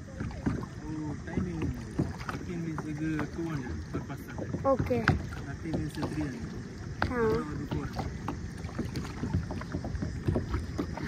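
Boat ride on deep water in heavy rain at Udupi, with a steady wash of water and hull noise running throughout beneath people chatting close by.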